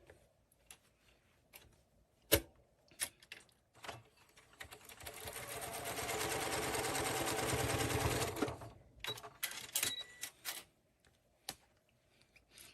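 A sewing machine stitches quilt blocks together in one continuous run of rapid, even whirring lasting a few seconds, framed by scattered clicks and handling of fabric before and after.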